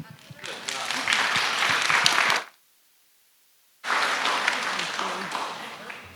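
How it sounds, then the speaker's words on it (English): Audience applause at an Asian American, Native Hawaiian and Pacific Islander Heritage Month event: loud, dense clapping for about two and a half seconds, a sudden silence, then a second sustained round of applause. "Clap again if you were educated, inspired, and entertained."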